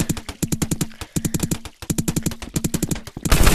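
Gunfire in the video game Rec Room, rapid bursts of sharp shots that come in quick clusters, then a rougher noisy blast at the end, close and loud with no talk.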